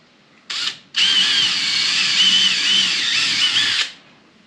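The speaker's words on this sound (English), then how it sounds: "I also like to pre-drill these holes" A power drill whirs close by in a short burst, pauses, then runs steadily for about three seconds, its high whine grinding through wood before stopping.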